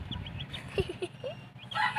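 A few short, honking clucks from a chicken in a video game, quick and close, over a low background hum.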